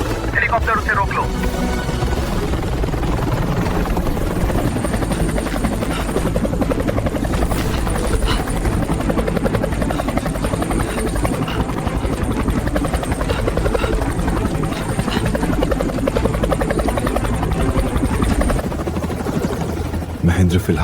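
Helicopter rotor thumping loud and steady throughout an action-movie battle scene, with gunfire-like bursts and music mixed under a voice.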